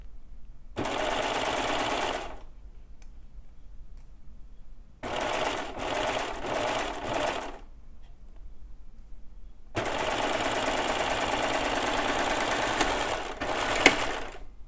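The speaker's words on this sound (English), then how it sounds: "as I'm sewing, I'm making sure not to be pulling anything, not pushing anything, just let it sew flat." Sewing machine stitching bikini fabric in close, rapid bursts: a long run, a few short stuttering runs, then a longer steady run, separated by quiet pauses.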